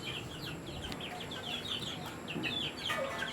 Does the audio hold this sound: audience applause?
no